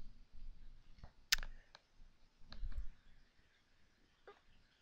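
Computer mouse clicks while formatting data in an Excel spreadsheet: a few sharp, isolated clicks spaced irregularly, close and fairly quiet over faint background hiss.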